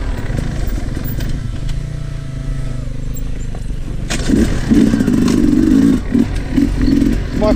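A 2022 Sherco 300 SE factory dirt bike engine idles low and steady, then grows louder and rougher, with clattering and scraping as the bike is walked downhill on a trail; background voices.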